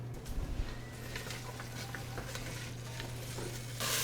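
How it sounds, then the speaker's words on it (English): Onions, apples and garlic sauteing in a pan give a steady soft sizzle with scattered stirring scrapes and taps, close but low, over a constant faint hum. "I'm adding in the onions, apples, and garlic. And we'll saute those until they're tender"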